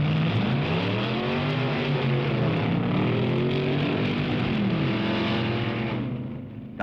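At a 1962 drag racing nationals meet, cars accelerate hard down the strip, their engines roaring loud with several climbing, overlapping pitch sweeps through the gears before the sound fades slightly at the end.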